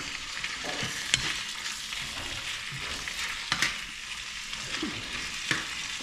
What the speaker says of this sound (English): So we add the saltfish to the natural season and let it cook in